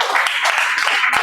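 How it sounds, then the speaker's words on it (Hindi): Guests at a first birthday party clap continuously and loudly in a dense, overlapping burst, with a few sharper individual claps standing out. "आप जोर से तालियां बजाइए"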